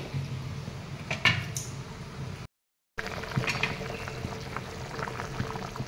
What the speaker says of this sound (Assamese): এতিয়া মই প্ৰায় 10 মিনিট সময় উতলিব দিম